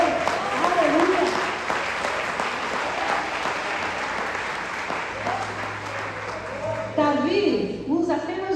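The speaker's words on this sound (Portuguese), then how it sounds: "aplaude o Senhor." A church congregation applauds steadily throughout, a dense wash of clapping while a voice speaks and calls out over it.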